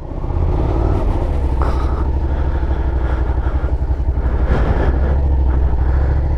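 A Suzuki SV650 650 cc motorcycle rides along on the road, its engine giving a loud, steady low rumble with wind noise and slight rises in revs, close and continuous with no talking.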